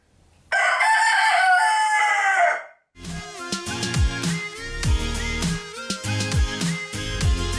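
A single rooster crows one loud, long, close call, then music takes over after a brief gap.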